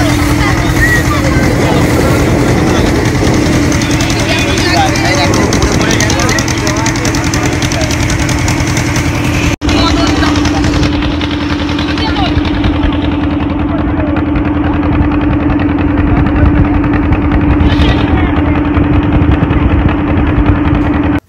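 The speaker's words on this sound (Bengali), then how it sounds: "নৌকাতে উঠে পড়েছি, আমরা যাব ওই পারে মৌসুমী আইল্যান্ড" A boat's engine drones loudly and steadily while crossing the water to Mousuni Island, a constant close throbbing hum with knocking vibration, and people talk over it.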